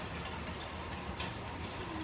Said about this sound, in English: It's actually raining out.